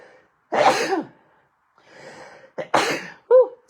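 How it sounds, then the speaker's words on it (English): A person sneezes indoors, a close, loud burst followed by a softer breath and a second sharp sneeze, with no talk during it. "I feel a sneeze coming on."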